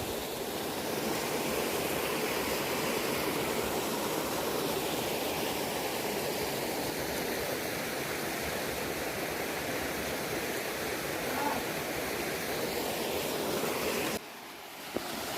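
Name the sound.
waterfall at Mandala Falls, Antonio's Water Park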